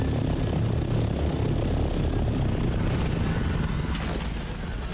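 An assault copter in the video game Dune Awakening flies with a steady, loud rotor and engine drone that stays continuous for several seconds.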